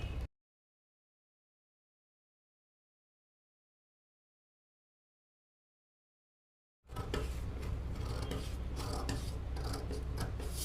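Scissors cut blouse fabric along a marked line, a steady close rasping after a long stretch of silence.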